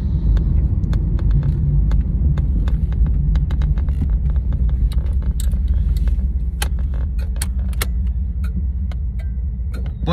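A 1994 Camaro's engine drones steadily at a low idle-like pitch while cruising at about 30 mph, a continuous close rumble with faint clicks and rattles scattered over it.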